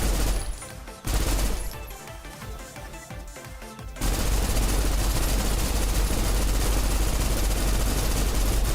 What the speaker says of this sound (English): Oh, infinite ammo. I'm just gonna keep shooting.